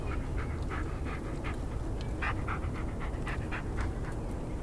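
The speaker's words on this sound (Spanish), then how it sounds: "Se escucha el perro." A dog pants steadily with faint whimpers in the Blair Witch video game, a quiet rhythmic breathing that repeats over a hissy background.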